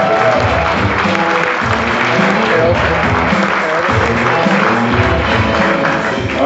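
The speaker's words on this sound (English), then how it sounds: "Please give a round of applause for Mr." A comedy club audience claps for a comedian being brought on stage, loud close applause with some cheering and murmuring voices running underneath throughout.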